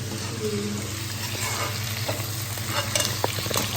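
Chilli paneer ingredients stir-fried in a hot pan, a steady close sizzle with repeated scraping stirs throughout, no talk over it.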